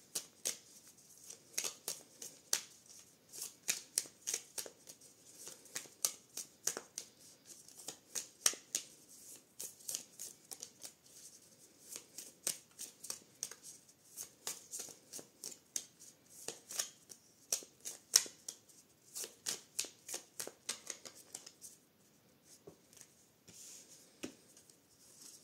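Petit Lenormand cards shuffled by hand, a steady run of crisp riffling clicks and soft slaps, close and fairly quiet, with no talking.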